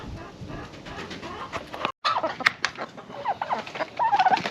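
Farmyard chickens cluck and murmur nearby in a short series of uneven calls, broken by a brief gap, with birdlike chatter layered over a light outdoor background.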